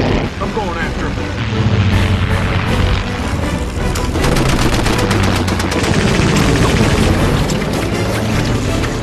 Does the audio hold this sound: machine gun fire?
yes